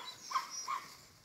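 A dog gives two short, high whimpering yelps, faint and a bit distant, with a quiet pause between them and no talk.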